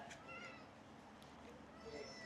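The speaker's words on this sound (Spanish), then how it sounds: "vamos a darle de comer a los gatitos. Miren su desesperación." Hungry kittens give several thin, high meows at intervals, fairly faint against a quiet household background as they wait to be fed.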